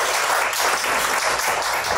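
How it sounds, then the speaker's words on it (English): A room full of guests at a book launch gives a loud, dense round of applause, continuous and close for the whole stretch with no speech. "Please give her a round of applause."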